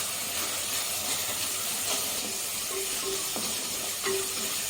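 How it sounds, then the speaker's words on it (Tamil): Ginger garlic paste sizzles in a pan as it is stirred, making a continuous bright hiss with occasional scraping taps from the spoon. "ரெண்டு ஸ்பூன் இஞ்சி பூண்டு பேஸ்ட்டு சேர்த்துக்கலாம் இதே நல்லா கலந்து விட்டுக்கலாம்"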